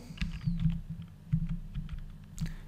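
A computer keyboard is typed on in short bursts of soft clicks and thuds at close range, quiet and irregular, with brief pauses between keystrokes.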